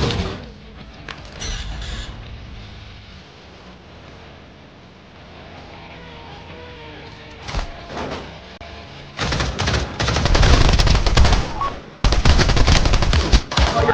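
SMG fire in the Pavlov VR shooter game, with quieter clattering and scattered shots early on, then loud rapid bursts of automatic gunfire toward the end.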